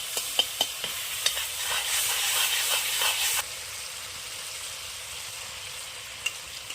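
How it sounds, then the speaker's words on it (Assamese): Tomatoes simmer in a pan with hot water, cumin and coriander, a soft continuous sizzle and hiss broken by sharp clicking stir strokes, the frying louder at first and then quieter. "অলপমান গৰম পানী দি দিছে, বিলাহীকেইডোখৰ ধুনীয়াকৈ সিজি ল'বলৈ"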